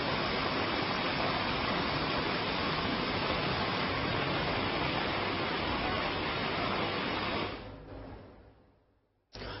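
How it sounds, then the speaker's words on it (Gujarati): The Sukhta river in flood after torrential rain, a loud, steady broadband rush of fast water filling the scene for about eight seconds before it abruptly fades away. "પૂરની સ્થિતિમાં સુખતા નદી 2 કાંઠે વહી રહી"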